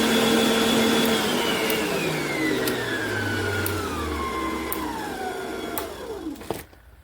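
An Aucma 660W tilt-head stand mixer motor whirring loudly up close, its whine sliding steadily lower in pitch as it winds down, with faint clicks before it cuts off near the end.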